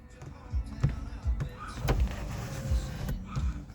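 The moonroof motor on a 5th-generation Toyota 4Runner Limited whirs close by in short repeated bursts, with faint clicks and rustling around them as the roof opens and closes.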